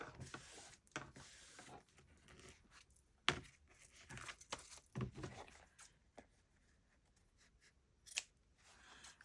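Scissors snip through paper while trimming small triangular pieces off a junk journal cover, giving a run of close, crisp cuts and rustles at an uneven pace in a quiet room.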